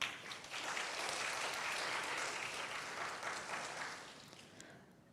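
Steady applause from an audience welcoming a presenter at an online academic webinar, swelling quickly and holding for several seconds before tapering off.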